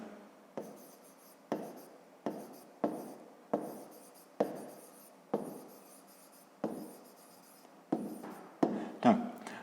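A pen writes on paper during a fifth-grade maths exercise, about a dozen short scratchy strokes in an even rhythm, close and quiet, with no talking.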